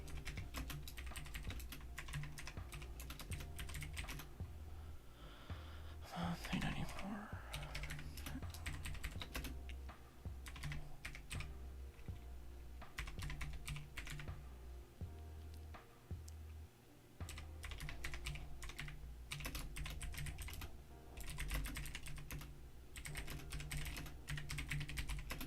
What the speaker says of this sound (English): I'm going to go ahead and type it up while y'all let me know.